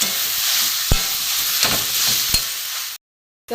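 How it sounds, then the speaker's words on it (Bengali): Grated boiled potato is stirred into sizzling vegetables in a pan for vegetable chops, a steady frying hiss with a few sharp scrapes of the spoon, ending in a moment of silence. "আলু থেকে গ্রেট করা এটা আমি দিয়ে দেবো পুরোটাই দিয়ে আমি এর সাথে একদম মিশিয়ে দেবো"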